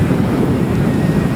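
Strong wind on a disc golf course buffeting the microphone, a loud, steady low roar that fills the brief moment with no talking.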